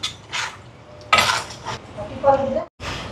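Vegetables are stirred in a cooking pot with a metal spoon, giving a few separate scraping clinks and knocks against the pot, close and fairly loud with short pauses between strokes.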